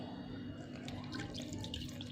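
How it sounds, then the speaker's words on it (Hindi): Water trickles quietly into fish fry batter seasoned with salt and red chili, a faint, close, continuous pour with light dripping. "अब इसके पानी के साथ हम इसका बैटर तैयार करेंगे।"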